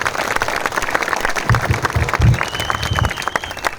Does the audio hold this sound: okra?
no